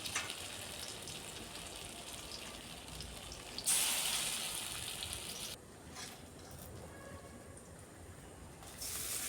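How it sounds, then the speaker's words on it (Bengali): Slices of spiny gourd (kakrol) fry in a pan of oil with a soft, steady crackling hiss, a louder burst of sizzling rising midway then easing back down. "বাকিগুলোও এক এক করে ওই তেলে ভেজে নিচ্ছি"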